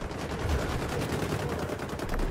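Rapid, steady bursts of automatic gunfire from the shooter game xDefiant rattle on continuously, loud and dense, with no pause.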